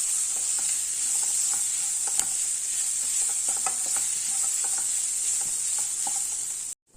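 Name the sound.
capsicum rice masala simmering in a pan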